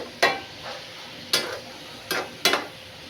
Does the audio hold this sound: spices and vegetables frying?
yes